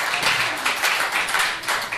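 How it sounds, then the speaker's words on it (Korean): A church congregation applauds together, many hands clapping in a brisk, dense, continuous burst with no voices over it. "우리 다 같이 한번 하나님께 감사의 박수 드리겠습니다."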